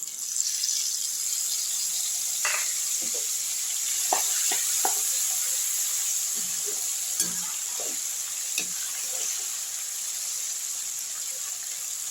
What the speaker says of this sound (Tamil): பூண்டு தான் வந்து கொதிச்சிட்ருக்கு, அது இருக்கட்டும்